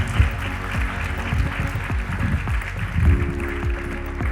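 Audience applause for departing panelists at a brownfields developer summit, a steady patter of clapping with low rumble underneath, moderately loud and continuous throughout.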